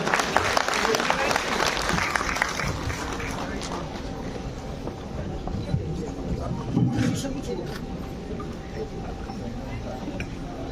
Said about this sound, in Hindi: दिल्ली के लेफ्टिनेंट गवर्नर श्री विनय कुमार सक्सेना जी का जोरदार तालियों से एक बार स्वागत किया जाए